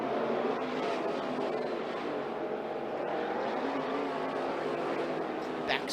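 IMCA modified race cars circling Skagit Speedway during hot laps, a steady loud engine roar from the track with an announcer talking continuously over it.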